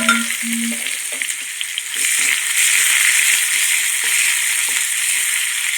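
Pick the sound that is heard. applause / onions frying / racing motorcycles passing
onions frying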